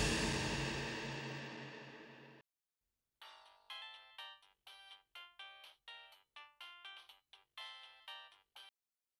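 A phone ringtone in a Telugu TV serial scene. A long fading tone is followed by a short silence, then a repeated electronic chiming melody in evenly spaced bursts, clear and close, with no talk.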